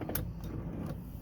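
Honda Element driver's side power window motor running with a broken regulator cable, a steady close whirring hum with faint scraping over about a second.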